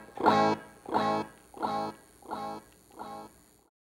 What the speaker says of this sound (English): And this is with the echo.